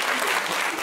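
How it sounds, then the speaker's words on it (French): Audience applause after a pitch presentation, a dense wash of many hands clapping, loud and steady in a brief burst, with a voice faintly underneath. "on applaudit"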